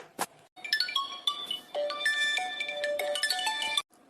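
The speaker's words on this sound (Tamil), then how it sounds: "யாரும் ஃபோன் அடிக்கிறதா இருக்குது?" A phone ringtone plays a bright, chiming electronic melody of quick stepped notes after a short click. It is fairly quiet and heard on its own.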